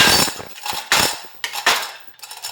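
A glued wooden inlay joint, 3/4 inch thick, cracks under a testing press, producing several sharp, loud wooden snaps and clacks in quick irregular succession, each decaying briefly, with no speech.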